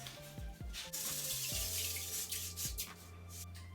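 Water pours steadily into a tub close by, with splashing and gurgling as it fills.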